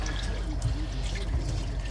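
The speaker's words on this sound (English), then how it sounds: "that hot water on demand" Hot water running steadily from an on-demand water heater, a continuous close pouring and splashing rush with no break and no talk over it.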